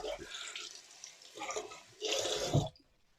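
Water poured into a glass of Stirling spirit, heard as two splashing, trickling bursts close by, the second louder and fuller, ending abruptly before a quiet tail.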